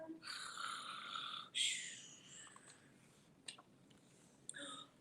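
A voice softly imitates snoring with a long breathy rasp, then a second shorter snore and a brief snort, quiet and close.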